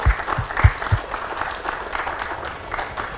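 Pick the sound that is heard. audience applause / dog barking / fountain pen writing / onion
audience applause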